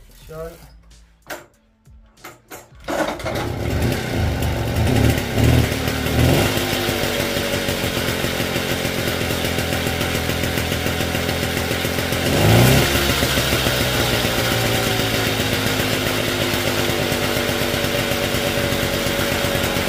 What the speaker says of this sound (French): Et là, maintenant, tu n'as plus qu'à démarrer ton moteur.